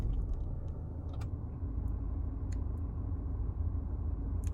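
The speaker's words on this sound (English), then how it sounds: "when you start the car up, you see it comes straight up there" A Range Rover Evoque HSE Dynamic idles after being started, a steady low engine rumble underneath a few faint clicks and ticks from inside the cabin.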